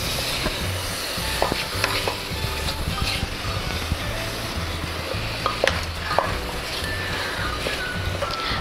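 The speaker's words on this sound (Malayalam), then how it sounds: "കുറച്ച് എണ്ണ ഒഴിച്ച് നമുക്ക് ഈ ചിക്കൻ കഴുകി വെച്ചത് നമുക്ക് ഒന്ന് ഫ്രൈ ചെയ്തെടുക്കാം." Washed chicken pieces frying in oil in a pan, a dense close sizzle with frequent scrapes and clinks of a utensil stirring against the pan, steady throughout.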